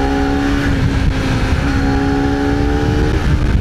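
A Honda CBR250RR 250cc motorcycle engine held at steady high revs under throttle, a loud, close, buzzing drone with a slight pitch dip midway, heard alone without talk.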